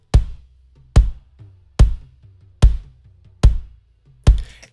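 Processed church kick drum built from three blended samples, six punchy hits in a steady rhythm with a short roomy decay and faint tonal ringing between strikes.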